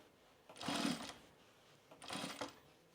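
Sewing machine edge stitching down binding in two short bursts of whirring stitches separated by a pause, close and fairly soft.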